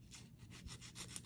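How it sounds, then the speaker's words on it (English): Nail file rasping back and forth across false nail tips from a dip powder kit, a steady run of close, quiet strokes with no talking. "I'm going to use the file they provided and just file them down"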